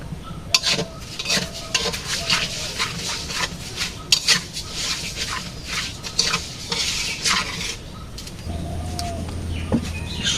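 Mung dal being lightly fried and stirred in a pan in a village kitchen, with steady scraping and soft sizzling throughout, a few sharper utensil knocks, and birds calling faintly in the background.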